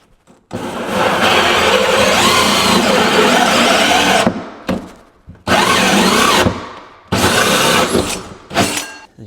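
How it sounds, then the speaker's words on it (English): A power drill fitted with a Diablo hole saw bores through a wooden bathroom base cabinet in three loud, close bursts of grinding, whirring cutting separated by short pauses, with no talking. "I like to drill till the front until the center bit comes through, and then reverse it."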